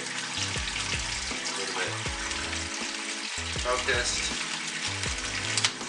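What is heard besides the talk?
water running from a sink tap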